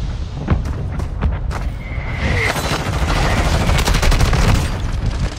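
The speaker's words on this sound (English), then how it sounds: "Friendly mortar strike on the way." Mortar strike explosions in a military video game: a cluster of sharp impacts followed by a building, continuous barrage of booms and crackling blasts, loud and dense.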